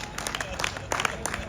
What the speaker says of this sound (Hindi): ताली बजा दो आप